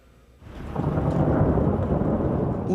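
Thunder rolls in as a deep, swelling rumble that builds within a second and holds loud, mixed with the patter of rain, opening a drum carnival in San Basilio de Palenque.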